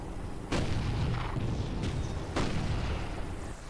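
Heavy artillery-style gunfire in the Toy Soldiers video game aimed at mortar positions, with a dense roar of battle and a few sharp louder blasts standing out near and loud throughout.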